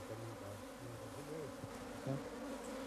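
Honey bees buzz from an opened hive of a big colony, a close, dense hum with wavering tones as individual bees drift near and away, alone and fairly faint.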